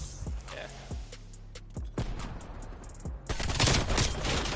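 Rapid AK-47 gunfire in an online shooter game: several sharp single shots in the first two seconds, then a dense, loud burst of continuous automatic fire toward the end, close and alone without talk.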